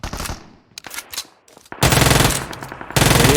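Gunfire in a shooter video game: sharp single shots and short bursts at first, then sustained rapid automatic fire that stops and resumes, loud and close.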